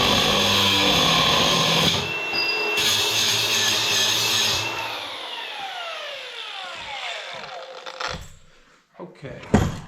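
Power saw cutting a metal part of a manure trailer, a loud grinding cut that winds down and spins to a stop, followed by scattered clanks and knocks.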